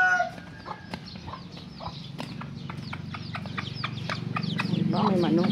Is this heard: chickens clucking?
yes